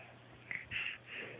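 A cat gives short, breathy snorting sneezes, two or three quick close bursts against a quiet indoor background.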